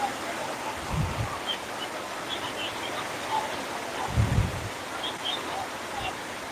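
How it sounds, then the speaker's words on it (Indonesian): Rain falls steadily outdoors as a continuous broadband hiss that fills the whole clip, with a couple of brief low thumps underneath. "Ini barusan hujan lagi, jadi takut suaranya nggak jelas."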